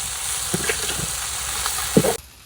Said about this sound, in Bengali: মশলা ভুনিয়ে নেই সুন্দর করে।